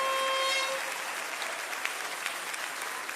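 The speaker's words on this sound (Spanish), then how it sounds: "démosle un aplauso al Señor." Church congregation applauding the Lord, a faint, distant, even patter of clapping with a brief steady tone at the start.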